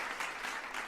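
A person imitates a round of applause with their mouth, a brief breathy hissing burst with a slight rhythmic pulse, close and fairly soft.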